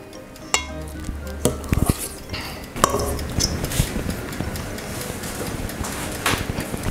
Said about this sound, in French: Tu vas verser ta préparation avec une cuillère dans chaque petit moule.